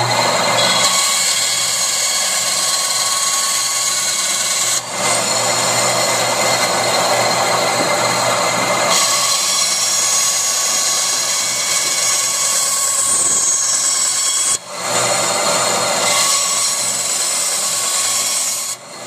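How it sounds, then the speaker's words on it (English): Bandsaw in a garage cutting away most of the waste wood from a pair of knife scales for a small neck knife. It is a steady, loud, continuous rasping cut that runs throughout, with brief dips at a few points, and there is no talk. "cut away most of this waste using a bandsaw"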